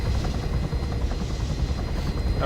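A military helicopter in the video game Arma 3 drones close and loud, its rotor chop forming a steady pulsing thrum over a low engine rumble throughout.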